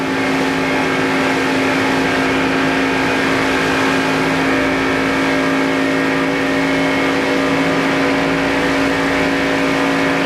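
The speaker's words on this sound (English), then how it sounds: "We can hear the engine in Mark Martin's car." A steady, loud stock car engine drone with a constant tone, heard from inside the car at speed during the 1994 Winston Cup Pepsi 400 race at Daytona, with no voices.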